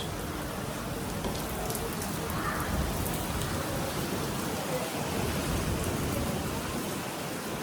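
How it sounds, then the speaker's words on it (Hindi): Heavy rain falls steadily outside a home at night, a dense, continuous hiss of drops on surfaces that stays loud and even throughout, with no voices over it. "तो बहुत तेज़ बारिश हो रही है।"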